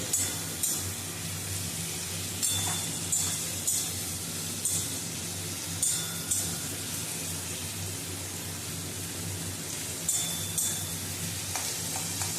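Malai chicken koftas fry in oil in a pan with a steady soft sizzle, fairly quiet, and occasional utensil clinks and stirring knocks recur every couple of seconds.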